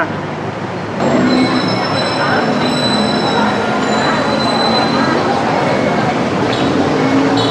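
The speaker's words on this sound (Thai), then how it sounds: "บนเป็นรถไฟฟ้าด้านล่างเป็นถนนรถแลนวิ่งผ่านไปผ่านมา" An elevated skytrain in Thailand rumbles past overhead with a loud, sustained roar and faint wheel squeal, while road traffic moves below and a voice talks underneath.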